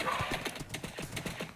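Hooves of a horse in the Minecraft video game clop in a quick, even series of about eight light thuds, close and fairly clear.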